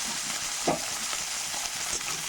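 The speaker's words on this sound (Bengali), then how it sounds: "এবার আমি ভাজা করে নিচ্ছি।" Tilapia and khoira fish frying in hot oil in a pan, a continuous close sizzle with a brief louder crackle, no talk.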